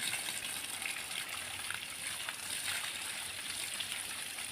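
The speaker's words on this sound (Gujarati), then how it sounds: "જો ગાડી ધોઈ તમે કહેવાય તો ખરું ને, ગાડી ધોઈ અમને પલાળતા ને" Water spraying and gushing steadily while a car is washed outdoors in summer, a constant hiss of spray at moderate distance without any voices over it.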